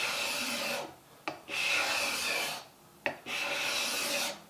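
A card scraper drags across a piece of mahogany locked in a bench, making three close, loud, rasping strokes with short pauses and a small knock between them.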